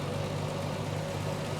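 A 1973 Triumph TR6 engine idles with a steady, even low hum, close and continuous, during a tune-up.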